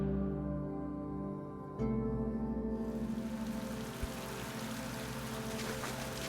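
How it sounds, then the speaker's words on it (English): Rain in the fantasy strategy game Thea 2, a steady wash of falling water that swells in after a short shift in the game's background tones, continuing under a low droning score with no talk. "And of course it's raining."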